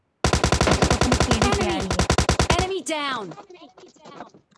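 Rapid automatic gunfire in the PUBG Lite mobile game, aimed at a bot, rattles out as one loud, evenly spaced burst lasting about two and a half seconds, and a voice talks right after it ends.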